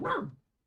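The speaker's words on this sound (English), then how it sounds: "My little puppy's underneath here in his crate." A puppy lets out a single short bark from its crate beneath a desk, one close, loud yelp that cuts off sharply and leaves silence after.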